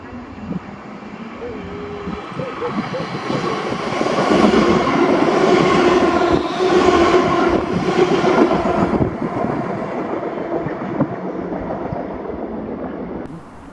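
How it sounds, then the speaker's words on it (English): A ScotRail passenger train from Ayr to Glasgow Central speeds through Paisley Gilmour Street station without stopping, a loud rushing rumble that swells, holds, then fades, heard from the platform with faint voices around. "Then coming flying by was 1K34, the 1401 ScotRail service to Glasgow Central from Ayr."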